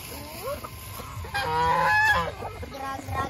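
Chickens being fed coconut pulp give loud, close squawks and throaty calls in a short, busy burst of fowl noise.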